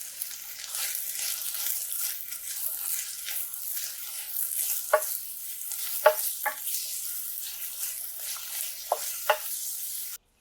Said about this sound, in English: heat a 1/4 cup of oil over medium heat. Add 3 sliced onions and saute until translucent.